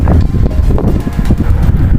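Strong wind buffets the microphone outdoors at a fishing spot, giving a loud, continuous, gusty rumble with uneven surges and no voices.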